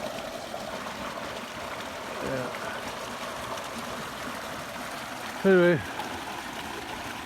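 Creek water running steadily past a road crossing, a soft continuous babble in the background while someone talks over it briefly.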